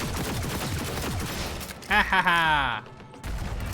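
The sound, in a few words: gunfire in the video game Cyberpunk 2077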